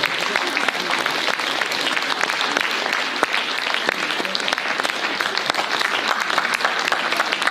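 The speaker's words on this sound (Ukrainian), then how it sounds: "головному фільму можна плескати іще" An audience at the Golden Dzyga 2025 national film award ceremony in Ukraine applauds in a dense, steady wash of clapping that stays loud and unbroken throughout.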